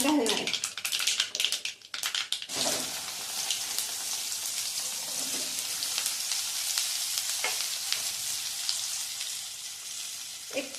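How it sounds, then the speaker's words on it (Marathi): Okra coated in amchur powder drops into hot oil with turmeric in a pan and sizzles loudly and steadily. A few brief voice-like bits come near the start, then a dense, continuous crackle with occasional sharper pops. "आता हे आमचूर पावडर लावून ठेवलेली भेंडी मी ह्यात घालणार आहे"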